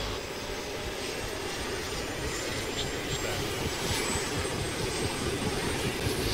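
A helicopter in the ARMA 2 DayZ mod drones with a continuous, steady engine and rotor roar that holds at an even level throughout, near and unbroken by talk.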